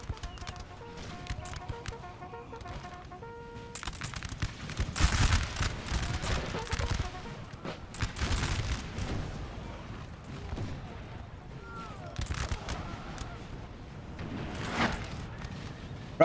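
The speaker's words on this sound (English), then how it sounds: "these Prussian troops are firing" Prussian troops firing muskets in Napoleonic Total War 3, ragged volleys and scattered cracks rolling across a battlefield, some heavy booms mixed in, loudness rising and falling over about sixteen seconds with a voice talking over it.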